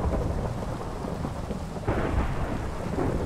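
Thunder rumbling through a lightning storm in the Minecraft video game, a steady low roar over rain that swells noticeably partway through, with no talk.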